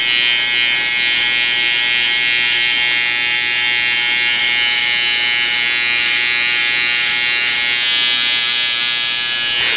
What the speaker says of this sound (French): Je vais me raser un petit peu.